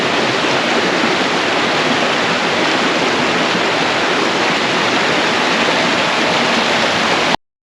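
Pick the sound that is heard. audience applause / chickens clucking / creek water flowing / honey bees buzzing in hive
creek water flowing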